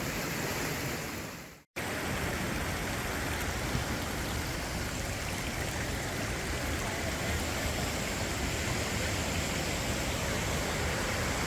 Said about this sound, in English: We get a lot of water coming down off of this into this Stillaguamish River.